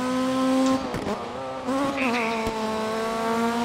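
A car's engine revs through gear changes in a DiRT 3 rally race on PS3, the steady harmonic whine dipping and climbing twice before settling into a loud, sustained drone.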